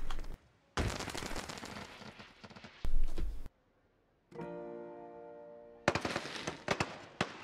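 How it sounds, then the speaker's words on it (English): Fireworks bursting in the theme park game Planet Coaster: loud crackling and booming volleys in several bursts separated by short silences, with a humming, tonal whistle between them and a final cluster of sharp pops. "I will play the fireworks manually."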